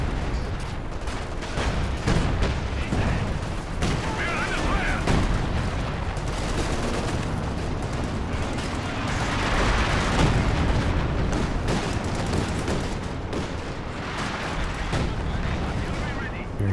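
Company of Heroes 2 battle with howitzer and artillery fire plus gunfire, a dense continuous barrage of booms, explosions and rattling shots throughout, under an excited commentator talking.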